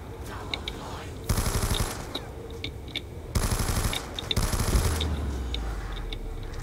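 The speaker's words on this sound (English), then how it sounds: "Ooh, a sniper montage." Bursts of rapid gunfire in the Black Ops 2 Zombies game on the Nuketown map, three loud sustained volleys with scattered single shots and game effects between them.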